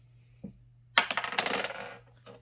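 Dice rolled onto a table during a board game of battlefield chess, a short burst of clattering rattles and bounces heard up close, preceded by a soft tap and followed by one last small knock.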